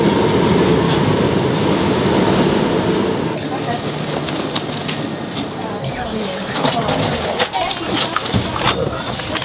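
Rumbling interior of a moving train bound for London, a steady low roar with rattles and clicks, while people talk over it.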